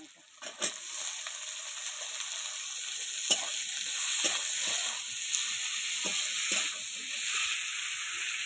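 Onion and tomato fry in a pan, a steady close sizzle and hiss with a few soft stirring knocks scattered throughout.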